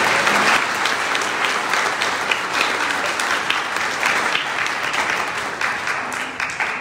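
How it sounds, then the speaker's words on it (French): Congregation at a Sunday church mass applauding loudly and continuously, a thick, even roar of clapping held throughout. "On peut les applaudir très fort"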